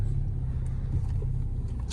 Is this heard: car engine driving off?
yes